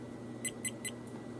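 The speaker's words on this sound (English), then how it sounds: "1, 2, 3 beeps." A Firefly Q6 action camera gives three short, evenly spaced electronic beeps as recording stops, followed by a fainter fourth blip, all quiet against a low background hum.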